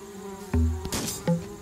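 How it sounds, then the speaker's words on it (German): Buzzing bees inside a tree in the video game AdventureCraft, a steady droning hum with a couple of brief louder swells, close and alone without any talk. "Alter, die Bienen sind da in dem Baum drin,"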